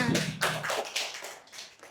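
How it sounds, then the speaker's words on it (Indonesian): Students clap their hands in a Grade 5 classroom during a maths lesson, a short, uneven patter of a few claps that fades quickly. "tepuk tangan buat kita semua."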